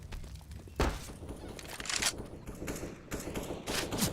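Gunfire in Counter-Strike during a professional BLAST Spring Final 2022 match: a few sharp shots stand out near and mid-distance over a busy bed of game noise, with a final crack at the end.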